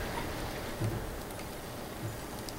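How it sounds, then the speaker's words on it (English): Rain falls outside during a storm, a soft, continuous hiss of drops heard faintly at a distance, with a couple of dull low bumps along the way. "Storm's raging outside and I can hear the rain coming down"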